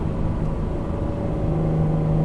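A 2019 Chevrolet Camaro 1LT RS exhaust drones steadily from inside the car while driving at around 3,000 RPM, a continuous low rumble with a faint steady tone and no talking.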